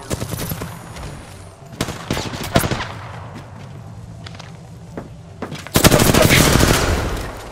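Loud automatic gunfire in the Apex Legends video game, with rapid bursts of shots, scattered thuds and footsteps between them, then a long, dense final burst.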